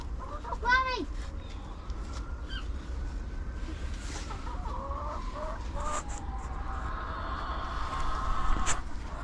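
Backyard chickens cluck and make short rising calls while pecking at worms in winter, several soft, scattered vocalizations over quiet outdoor ambience, with children's voices and an adult talking nearby.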